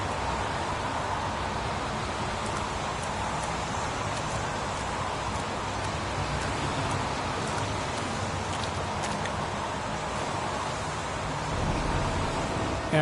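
Rain falls steadily in the video game Heavy Rain, a continuous hiss of rain with a soft patter on surfaces, even and moderately quiet throughout with no talk.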